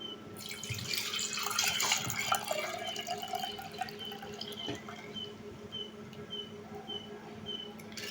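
Lukewarm milk poured into a pot holding two tablespoons of yogurt in a home kitchen, a soft continuous trickling splash with faint clinks, fairly quiet against a steady background hum.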